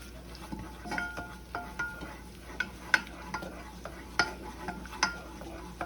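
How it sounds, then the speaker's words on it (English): Garlic frying in hot olive oil in a pot, a soft sizzle under repeated stirring taps and clinks of a utensil against the pot, close by with no speech. "So I'm just gonna do a swig of olive oil. Add my garlic."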